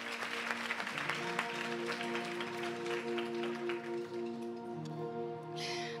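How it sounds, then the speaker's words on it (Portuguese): Applause at a church conference session, crowd clapping that is strongest at the start and gradually thins, while sustained keyboard or organ chords come in and hold underneath. "Uma salva de palmas para o nosso Pai."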